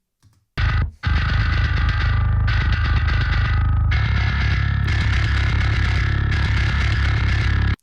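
Heavily saturated metal mix through the Burier plugin in the style of Architects' These Colours Don't Run, a loud, dense wall of distorted guitars and drums playing continuously after a brief pause near the start.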